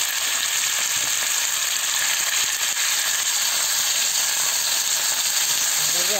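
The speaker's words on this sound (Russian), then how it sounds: "Масло уже разогрелось, выкладываем мясо." Steady loud sizzling and crackling of beef frying over high heat in hot oil in a pan, a continuous close hiss with no talking.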